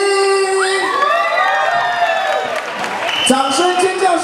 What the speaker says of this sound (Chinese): 掌声、尖叫声不要停！